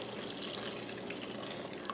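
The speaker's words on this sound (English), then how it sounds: "I have water. Okay, I'm just going to cover these with water." Water poured from a tap over vegetables in a pot for clam chowder, a steady close splashing hiss with no pauses and no voices.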